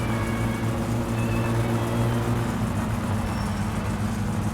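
Loud, raw rumble of an unmuffled car engine with no exhaust fitted, in the driving game My Summer Car, droning steadily and close throughout with a deep, harsh low-end roar.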